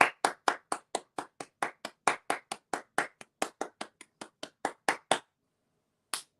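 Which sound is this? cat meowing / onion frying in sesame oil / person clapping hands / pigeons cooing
person clapping hands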